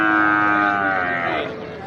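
A buffalo bull lows at the Kharian cattle market, one long, loud, close bellow that sinks in pitch and fades toward the end against the market's background noise.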